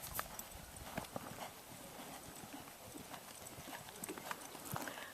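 A horse canters during a ranch training session, its hooves falling in a quick repeated rhythm that sounds clear but quiet, with faint talk in the background.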